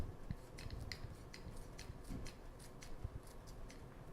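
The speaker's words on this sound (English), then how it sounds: "Some of this basil here, and I'll just cut it." Scissors snipping fresh basil leaves in a home kitchen, a quick series of crisp close cuts in an irregular rhythm, fairly quiet, with no talking.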